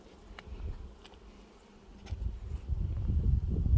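Honey bees buzz around a backyard beehive during a good nectar flow, a soft, dense hum close by that swells louder toward the end.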